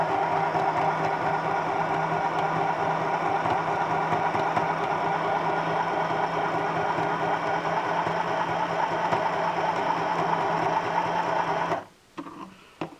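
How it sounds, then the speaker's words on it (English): A sewing machine runs continuously and loudly as elastic is stitched onto a fabric mask, a steady whirring drone that stops abruptly near the end, followed by a few faint clicks. "I'm just going to sew straight down to the bottom again"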